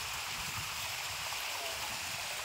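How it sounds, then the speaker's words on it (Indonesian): Water flows steadily in a stream beside a rice field, a continuous broadband rush that is close and even throughout, with no voices. "Suarane air mengalir."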